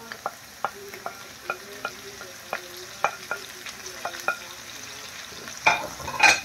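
Potatoes with onion, sweet pepper and parsley are stirred in a frying pan, with a steady run of close, sharp spoon scrapes and knocks over a soft sizzle, ending in a louder clatter.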